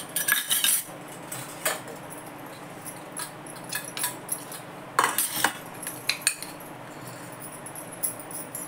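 Spoon clinking and scraping in a bowl while gram flour batter is mixed with crushed ginger, garlic, coriander and chilli, with irregular close metallic taps and clatters scattered through.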